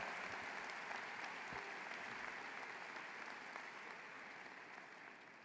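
Sustained applause from a large audience at a university winter commencement ceremony fills the hall steadily from start to finish, a dense wash of many hands clapping at once.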